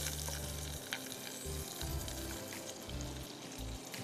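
Fish sizzling and frying until crisp in a pan for a fish curry, a steady close crackle with occasional bursts of spattering and faint stirring.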